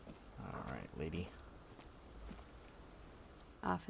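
Steady rain falls in the video game Disco Elysium, a soft continuous patter that runs beneath a man's speech and a few brief footsteps or clicks.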